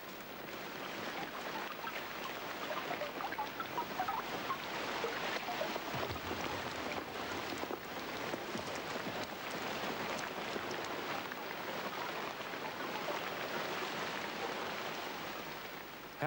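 Steady rain falls through a forest recently burned by a lightning-sparked fire, a dense, even hiss of drops on leaves and ground holding at constant loudness throughout, with no voices.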